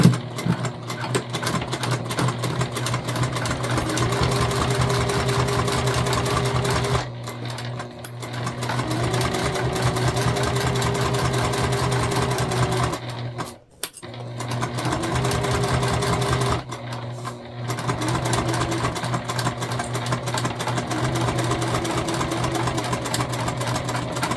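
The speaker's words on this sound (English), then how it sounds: "And we are back stitching at the beginning and the end, and we're going to do that throughout." Sewing machine stitching a self-drafted tote bag, running in steady loud bursts with a constant motor hum and rapid needle chatter, pausing briefly a few times as it back-stitches at the start and end of the seam.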